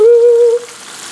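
Pieces of Jamaican parrot fish frying in hot oil give a loud, brief sizzle with a tonal whine that fades after half a second into a faint hiss.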